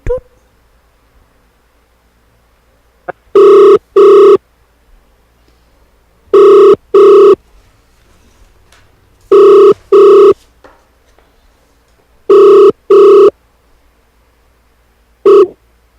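A telephone rings while a radio show dials a rugby guest, sounding four double-burst rings with a single final burst, clear and regularly spaced over a quiet line.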